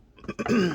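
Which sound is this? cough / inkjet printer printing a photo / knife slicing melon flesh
cough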